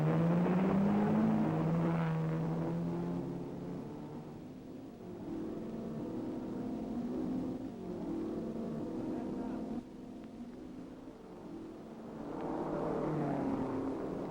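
1961 Grand Prix d'Europe road race for Ferrari TdF cars with a Le Mans-style start, engines revving and roaring as cars pull away, rising and falling pitch under a commentator's narration.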